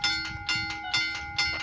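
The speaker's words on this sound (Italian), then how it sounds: "Ecco il treno, proveniente da Porto Maggiore, diretto a Bologna Centrale." Bells ring repeatedly at a level crossing on via Morgone in Traghetto, Ferrara, Italy, as a train runs from Portomaggiore toward Bologna Centrale, with a steady, close, insistent rhythm of bright clangs.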